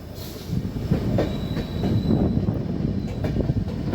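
A train rolling on rails toward Dudhsagar in monsoon rain makes a close, steady rumble with clacking wheel beats and a thin high squeal of wheels, no voices present.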